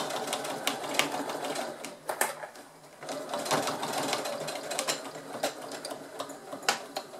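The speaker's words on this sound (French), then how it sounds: "Voilà, je suis en place pour coudre la diagonale." A sewing machine runs a straight diagonal seam on a fabric toiletry bag, a steady close mechanical whirr of rapid needle strokes with brief pauses and restarts, with no talking.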